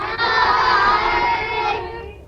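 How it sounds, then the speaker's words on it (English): Schoolchildren in a primary school classroom cheer together in one loud, bright burst of shouting voices that holds for about two seconds and then fades out. "give us a wave and a cheer in your classrooms, children, if you're looking forward to learning all about Wrinkly Raisins today"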